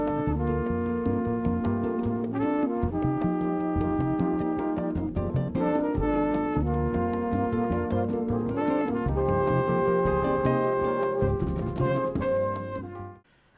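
Dense jazz ensemble playing from a 1972 album, with horns and rhythm section sustaining full, continuous harmony throughout before fading out at the very end.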